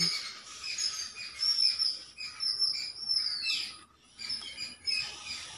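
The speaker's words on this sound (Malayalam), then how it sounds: "കുറേ കിളികളുടെ സൗണ്ട് കേൾക്കുന്നുണ്ടോ നിങ്ങൾ?" Many birds sing together in a morning garden, with overlapping chirps, tweets and whistled calls at moderate distance in a steady chorus, and no talking.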